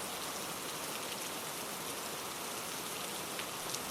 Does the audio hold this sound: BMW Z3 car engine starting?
no